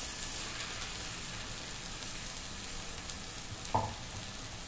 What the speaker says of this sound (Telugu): ఇప్పుడు టమాటా కూడా ఎగుతుంది